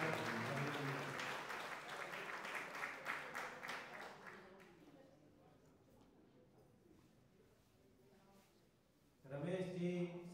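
An audience claps for an honoree at an environmental award ceremony in a hall. The applause is dense at first, fades to near quiet, then returns in a loud burst at the end.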